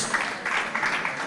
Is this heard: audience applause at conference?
yes